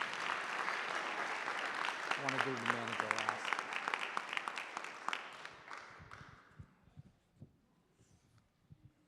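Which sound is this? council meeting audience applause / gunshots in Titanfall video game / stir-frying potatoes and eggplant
council meeting audience applause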